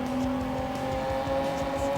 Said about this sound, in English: from the engine noises and the tires screeching